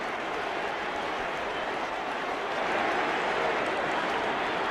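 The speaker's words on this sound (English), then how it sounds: "The relieved Tottenham crowd beginning to say easy, easy" A Tottenham football crowd after a goal makes a steady, loud roar of massed voices and applause that holds throughout and swells slightly toward the end.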